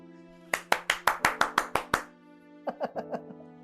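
A lone stage actor applauds himself after an act ends. Nine sharp, evenly spaced hand claps ring out close by, then a softer run of five follows over a steady sustained tonal drone.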